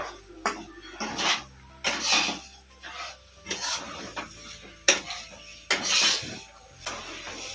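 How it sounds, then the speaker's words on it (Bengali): A spoon stirs semolina upma in a pan, giving repeated scraping and rubbing strokes in bursts with short pauses, close and moderately loud. "এটাকে কিছুক্ষণ নাড়তে হবে বন্ধুরা।"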